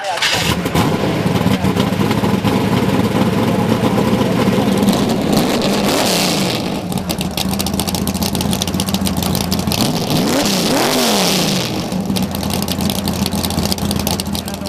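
A car doing a burnout at a swap meet in Ballarat, the engine revving hard in sustained loud bursts that rise and fall, with a brief dip midway and a rough roaring texture, crowd noise faintly underneath.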